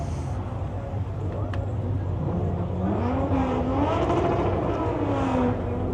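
Car exhausts rev at a Friday night car meet, a loud, continuous mix of engines with one rising and falling revving whine, people talking and shouting underneath.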